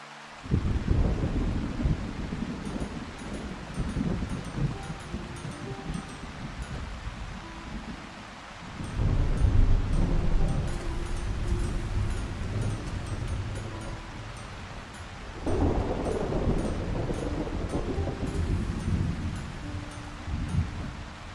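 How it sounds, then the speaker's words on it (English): Thunderstorm ambience from the Blacksmith Master video game: steady rain and wind with three deep rolling thunder rumbles swelling at intervals, loud and continuous, with no voices. "I like all the storm noises"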